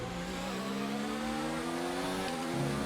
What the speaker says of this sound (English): Turn the engine up, give it everything.